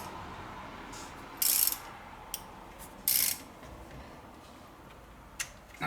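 A ratchet and socket turn a bolt on a 1985 Ford F150's 300 inline-six engine, with two short bursts of rapid ratcheting clicks and a few faint single ticks in a quiet setting.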